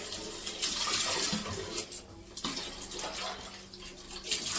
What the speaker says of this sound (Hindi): चलिए, इसका टब भी भर गया है।